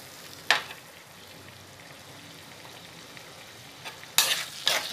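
Small shallots being fried and stirred in a pan for a country chicken gravy, with a soft, steady low sizzle broken by a few sharp scraping stirs near the start and end.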